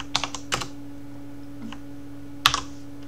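Keys on a computer keyboard tapped to enter an equation in LibreOffice Math, a few sharp clicks in two short bursts with a pause between, close and fairly loud against a steady electrical hum.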